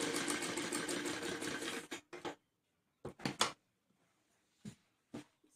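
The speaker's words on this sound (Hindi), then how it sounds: "देखिए इसके ऊपर यहाँ पर सिलाई लगा लेंगे।" Sewing machine stitching fabric for a back neck design: a rapid continuous mechanical run, then several short separate bursts of stitching with quiet gaps between them, close and clear.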